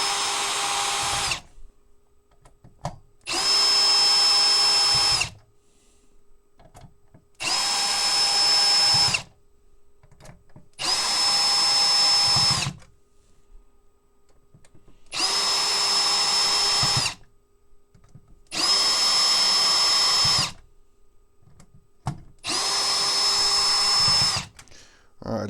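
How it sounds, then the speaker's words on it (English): A handheld automotive power tool whirs in seven steady bursts of a few seconds each as it backs bolts out of an iPace inverter, with quiet handling and some talk between runs. "automotive tool here I'm going to use to start pulling out some of these bolts"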